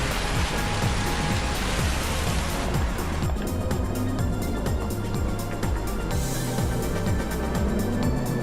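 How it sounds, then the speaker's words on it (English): Heavy rain pours down in a dense, continuous roar of broadband hiss, loud and unbroken throughout, with a low rumbling undertone beneath it. "Downpour."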